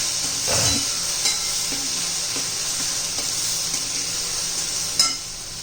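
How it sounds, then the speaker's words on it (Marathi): Steady oily sizzling of lentils frying in oil fills the clip, with a few soft scraping stirs and a sharper clatter near the end; no one speaks. "तेलामध्ये परतून घ्यायची आपल्याला डाळ हे सगळं वाटत चांगलं तेल सुटेपर्यंत आपण परतून घेणार आहोत"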